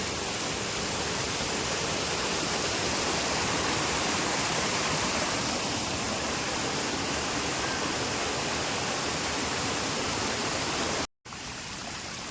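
Swollen stream in the Konkan overflowing its banks after a night of heavy rain, a dense, continuous rushing roar of water, close and steady throughout with a momentary break near the end.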